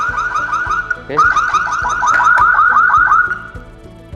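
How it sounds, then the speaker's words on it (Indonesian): Jete CT6 CCTV camera alarm, a loud electronic warble cycling rapidly and repeatedly in a fast pulsing pattern, close to the microphone, with a brief one-word voice just before it starts up. "Jadi dia akan ada alarm seperti ini ya teman-teman"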